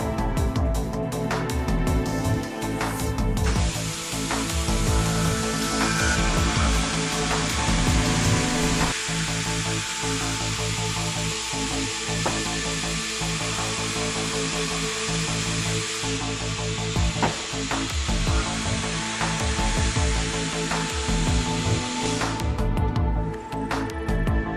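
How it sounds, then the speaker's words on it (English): A GANNOMAT Vantage CNC multiple drilling machine bores four lines of holes through a 16-inch panel in bore-through mode, a steady loud mechanical whir with broad hiss and repeated bit strikes running almost throughout, with no talking. "Here we are boring a 16-inch panel with 4 lines of holes in the bore-through mode"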